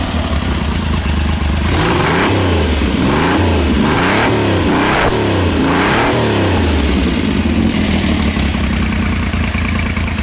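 A Triumph Hurricane X75 motorcycle engine sits close and loud, idling and then revved in several sharp rising and falling blips before settling back to a throaty idle.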